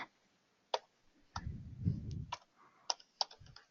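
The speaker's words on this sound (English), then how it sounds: "Press enter." A few key presses on a computer keyboard in a Unix terminal session, several sharp isolated clicks spread across a few seconds with a soft low thump in the middle, close and quiet, no voices.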